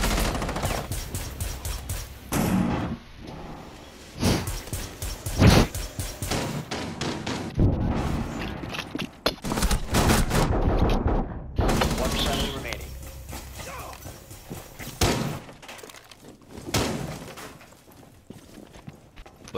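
Rapid bursts of automatic gunfire and scattered single shots in a Rainbow Six Siege firefight, loud and close, with footsteps and voices talking over the shooting.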